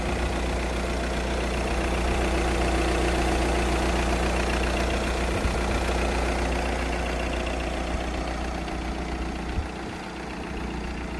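A diesel Audi A4 35 TDI with an automatic gearbox idles steadily and evenly, its low engine drone close and constant throughout with no other sounds on top.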